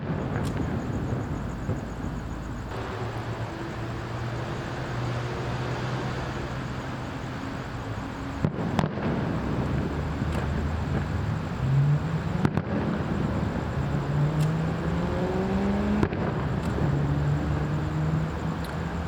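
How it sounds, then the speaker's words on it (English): Distant fireworks pop and thud in scattered bursts over a steady background rumble, with faint whistling rises between blasts. "And there's some fireworks."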